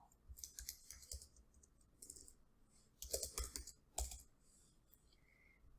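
Computer keyboard typing in quick bursts of clicky keystrokes, close and fairly quiet, with pauses between flurries and no talking.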